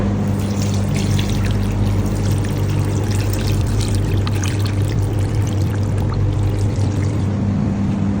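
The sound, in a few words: pouring water to dissolve salt for pickle brine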